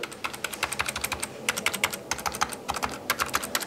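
Rapid, steady typing on a wired split computer keyboard with a tactile, laptop-like feel, the keystrokes clicking close and clear in quick irregular runs with no talking.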